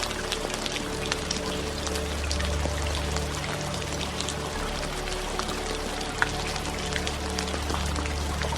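Steady rain falling and pattering on surfaces, a dense continuous hiss with scattered close drops and a low hum underneath, even in level throughout.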